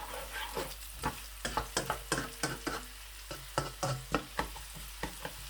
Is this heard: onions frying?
yes